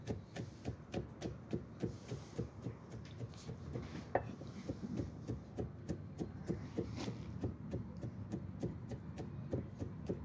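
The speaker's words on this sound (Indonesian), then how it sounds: "Setelah itu kita cincang kasar." Coarse chopping of ingredients on a cutting board: a quiet, steady run of evenly spaced knife knocks, about two per second, close and unaccompanied by speech.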